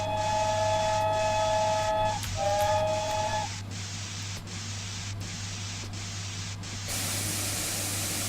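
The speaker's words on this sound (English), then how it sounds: "They also have a two-tone whistle, which means you have a low tone and a high tone whistle" Two-tone steam whistle of a GWR Saint class locomotive in a Train Simulator game, a steady low and high tone held together for about three seconds, followed by continuous loud hissing steam.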